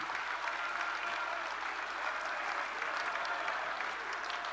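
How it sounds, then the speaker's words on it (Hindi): Large-hall applause at a national political party convention, a distant, even roar of many hands clapping, fairly faint and sustained without break. "इसके लिए हम सभी एक बार तालियां बजाकर अपने प्रधानमंत्री मोदी जी का अभिनंदन करें"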